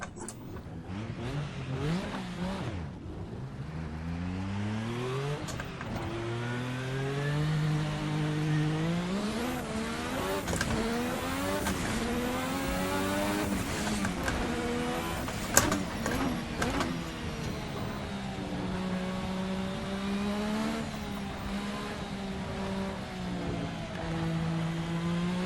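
A Formula RSS 1986 V6 turbo race car in the Assetto Corsa racing game revs hard and continuously, its engine note climbing and dropping through repeated, uneven gear changes, loud and alone with no talk.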